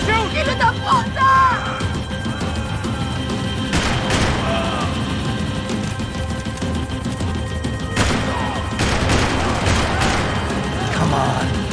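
Gunfire in Max Payne 3, loud bursts of shots and crashes in a chaotic firefight, with shouting voices and steady game noise underneath.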